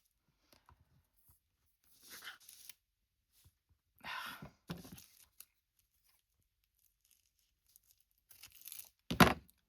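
Scissors cut paper diagonally while preparing a commissioned journal with a cats and dogs theme, in three separate bursts of snipping and rustling with quiet pauses between them; the last burst is closest and loudest.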